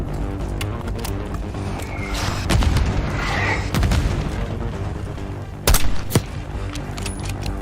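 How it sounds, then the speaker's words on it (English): Mortar fire in the Black Ops 6 game rumbles as a series of heavy booms and blasts under a constant battlefield din, with a sharper impact burst near the end. "Got mortar fire!"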